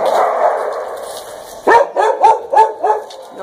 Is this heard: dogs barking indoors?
yes